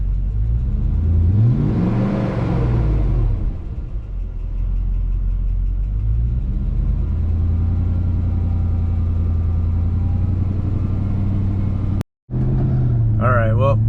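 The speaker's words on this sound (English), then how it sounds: "let's just go give it a few revs, take it for a quick spin" A Mercedes M113 engine idles with a low steady rumble, then revs up in a rising whine before settling, with a brief cut near the end.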